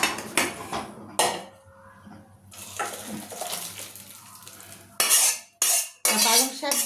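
Spinach and masoor lentil dal is handled between pot and bowl, with clattering and scraping of a ladle against metal cookware, soft liquid sloshing, and several loud bursts of clinking near the end.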